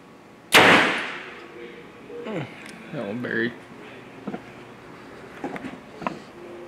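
A Hoyt Helix compound bow fires an arrow with a sharp, loud release thump, followed by softer clanks and rustles as the bow is handled after the shot.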